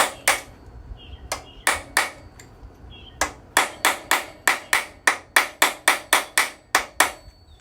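A hammer strikes a steel chisel driven under a rear suspension part on a Bel Air during a RideTech StreetGRIP install. Sharp metallic blows start sparse, then come in a fast, regular run of about a dozen hits.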